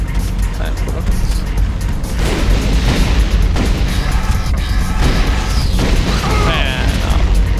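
Rockets fired and exploding in the 1998 Turok 2 multiplayer video game, with loud repeated bursts and booms amid constant gunfire and clatter, under people talking.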